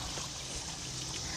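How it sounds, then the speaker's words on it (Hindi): Water pours into a cooking pot of goat trotters being made into paya, a short, steady splashing trickle heard close and alone. "अब हम इसमें खुला पानी डालेंगे"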